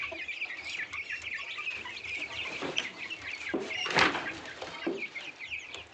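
Gavran desi hens in a small poultry shed cluck and chatter continuously, a steady flock murmur with a few louder squawks rising out of it, no voices.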